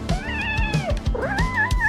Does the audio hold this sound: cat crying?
yes